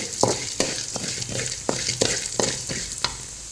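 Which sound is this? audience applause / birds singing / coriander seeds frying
coriander seeds frying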